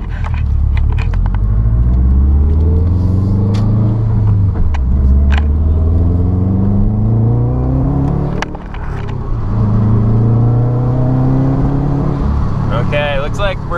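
A Subaru with roughness in cylinder 3 and a P0244 fault revs hard through acceleration pulls. The loud engine drone climbs in pitch, drops back at each shift, then climbs again under strong road rumble.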